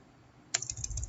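Keys clatter on a computer keyboard as a sudo install command is entered, a quick run of close, crisp clicks that starts after a brief near-silence and continues at a fast uneven pace.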